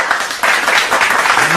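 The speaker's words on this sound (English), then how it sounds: "Give me a hand clap for that" A podcast audience claps in a dense, continuous burst of applause, loud and close, with no pauses throughout.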